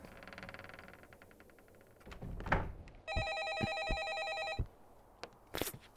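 A telephone rings in the horror video game A Favor, its sustained electronic ring running close and loud for about a second and a half, with scattered thuds, clicks and bursts of ambient game noise before and after.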